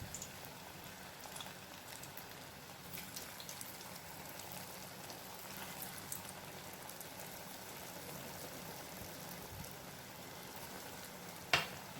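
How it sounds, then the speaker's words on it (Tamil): Pieces of a semolina, coconut and jaggery sweet fry in oil over moderate heat, giving a soft, continuous crackling sizzle, fairly quiet, with a small clink near the end. "இப்போ நம்ம இதை பொரிச்சு எடுத்துடலாம்"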